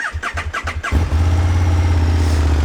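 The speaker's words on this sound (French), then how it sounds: "On va démarrer le moteur, sinon ce ne serait pas drôle." A KTM Super Duke 1290 starter cranks in a quick rhythmic run of about five pulses, then the twin-cylinder engine fires and settles into a loud, steady idle.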